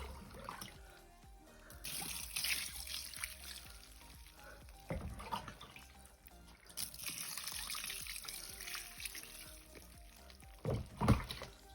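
Water pours and trickles into a 100-litre plastic reptile box, a steady splashing stream with a few louder gushes, close by and alone without talk.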